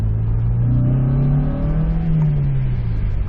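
A Honda S2000 engine revs while driving, a low steady drone whose pitch climbs and then eases back, heard alone from inside the car at moderate volume.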